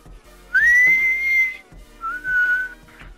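A person whistles in a DayZ roleplay game, two sharp rising whistles, the first longer and loud, the second shorter, over faint background thuds.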